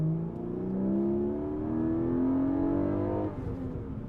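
A 2022 Porsche Boxster GTS 4.0 engine revs while driving, its pitch climbing in steady sweeps for about three seconds before easing off, loud and close with no talking.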